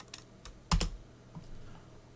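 Typing on a computer keyboard: a few quiet, scattered key taps with one quick double stroke standing out, close and isolated in a silent room.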